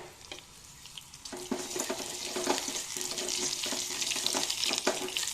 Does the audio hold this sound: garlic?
yes